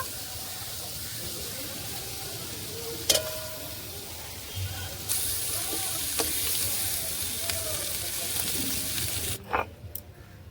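Shrimp fry in hot oil for a fig-and-shrimp kachori, a continuous crackling sizzle broken by a few sharp clinks and knocks of utensils.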